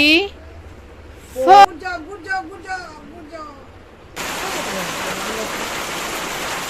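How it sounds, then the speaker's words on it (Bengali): Rain falling as a dense, steady hiss that sets in abruptly partway through and continues to the end, after a stretch of people talking and calling out. "বৃষ্টি মামা বৃষ্টি হচ্ছে"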